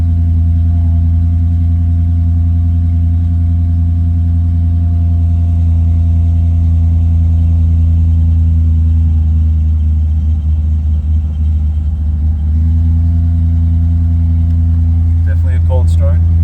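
A rare 2000 Land Rover Discovery II TReK Edition engine idles loud and steady after a cold start, a deep continuous rumble with strong low hum, and a faint rattle near the end.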